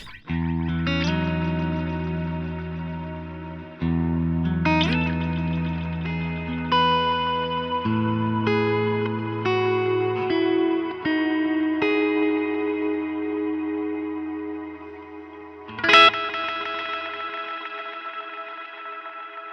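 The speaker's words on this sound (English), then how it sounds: "that's an impulse response and a magneto reverb, and they're running in parallel right now" An electric guitar plays a short melodic phrase through a Strymon BigSkyMX, with an impulse response and a magneto reverb running in parallel. Plucked notes and chords ring out with lush, lingering echoes, ending on a bright strum.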